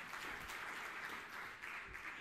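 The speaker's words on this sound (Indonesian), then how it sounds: "Tepuk tangan yang meriah untuk kemuliaan nama Tuhan." Congregation applauding during a church sermon: a continuous wash of many hands clapping, steady and fairly faint, heard from some distance in a large room.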